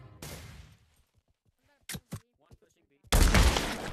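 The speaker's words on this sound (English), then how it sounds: "Still getting sniped at from somewhere." Gunfire in the Pavlov shooter game: a burst of shots at the start, a few sharp cracks in the middle amid quiet clicks, then a loud close volley at the end, with voices speaking in between.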